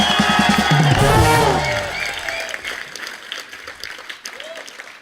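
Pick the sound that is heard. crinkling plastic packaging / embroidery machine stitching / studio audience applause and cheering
studio audience applause and cheering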